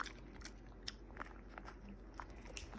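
A dog chews and bites a treat from a subscription box close by, quiet irregular crunches and clicking bites over faint room noise.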